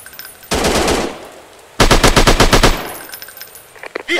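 Rapid automatic gunfire from a Sniper 3D shooting video game comes in two loud, close bursts: one of about a second, then a longer rattling volley after a short pause, with quieter game effects trailing off.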